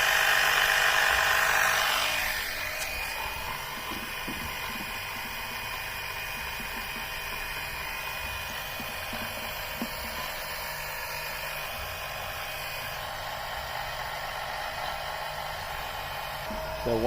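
An oil suction pump draws engine oil out of a Mercedes through a tube, a steady mechanical whine and hum running for the whole stretch after a brief louder start, with faint gurgling and rattling over it.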